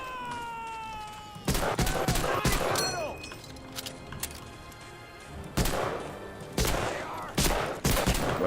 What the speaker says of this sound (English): And now he just goes crazy and starts shooting at me.